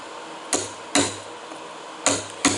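Four sharp hammer strikes ring out at uneven intervals while assembling a crane mast, close and loud, each with a brief metallic resonance.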